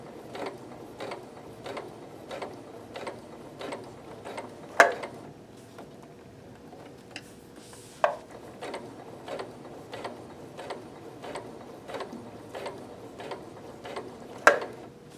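A home sewing machine runs a 5/8 inch seam through fabric, giving a steady, fast mechanical ticking with a few sharper clicks along the way, close and alone with no talk.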